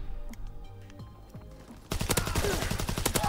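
Gunfire from a video game, Call of Duty WW2, with a fire shotgun in play: sparse thumps and clicks give way to a loud rapid volley of close shots crackling in quick succession, no voices.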